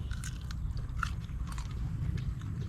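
Raw sweet bamboo shoot is bitten and chewed close to the mic, making crisp crunches and wet chewing under a low background rumble.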